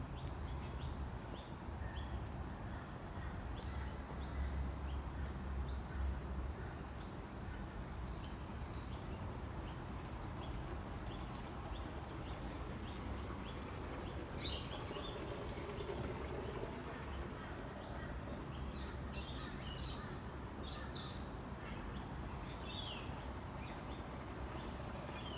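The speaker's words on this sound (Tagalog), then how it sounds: "Ang maririnig mo lang talagang yung agos ng tubig." Water flows steadily through a quiet park at Southbank in Brisbane, a faint, even rushing wash with soft bird chirps scattered over it.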